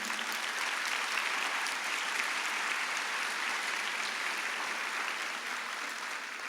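A church congregation applauds during a sermon, with even, continuous clapping throughout that stays moderately loud and holds a steady level.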